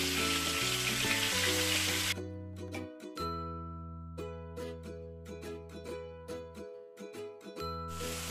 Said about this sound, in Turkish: Kıymamızın güzelce suyunu çektirdikten sonra soğanları ekleyip kavurma işlemine devam ediyoruz.